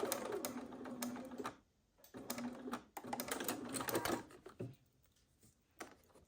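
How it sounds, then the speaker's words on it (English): Sewing machine stitching a fabric Santa sack, close-up bursts of rapid mechanical whirring that stop briefly and restart, with quiet gaps between runs. "start sewing again on the next line"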